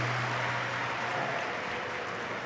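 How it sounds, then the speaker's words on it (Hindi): Large audience at a Shiv Mahapuran katha clapping loudly together, a dense continuous roar of applause throughout. "एक बार जोरदार ताली बजाकर साथ में"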